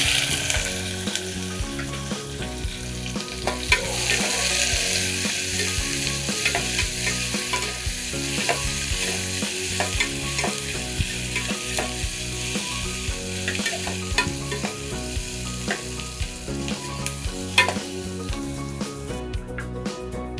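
Onions frying in hot oil with cinnamon, cloves, cardamom and bay leaf for a chicken gravy, a steady close sizzle with the clatter of stirring running through, no talking.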